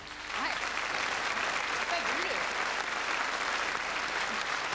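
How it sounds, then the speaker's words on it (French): A studio audience at a 1984 French television operetta special applauds steadily, a dense, even wash of clapping from many hands that fills the whole stretch at moderate distance, with faint voices underneath. "on peut l'applaudir"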